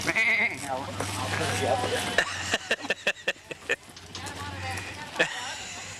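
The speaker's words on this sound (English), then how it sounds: "Here comes our sheep." Sheep bleat repeatedly amid outdoor commotion, with people talking and a quick run of hoof-like clatter in the middle.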